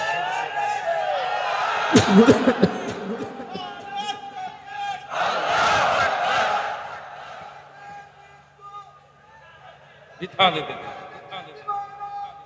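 A large crowd at an Islamic religious gathering chants slogans, loud roaring bursts of many voices rising together in waves, separated by quieter stretches with scattered voices and laughter.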